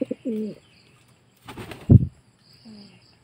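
Pigeons with their young in a loft: soft throaty cooing bursts at the start and end, with a sharp flurry of flapping wings in the middle, close and clear with no talking.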